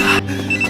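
A telephone rings briefly over a busy background, its steady electronic tone cutting in and out across less than a second, loud and close.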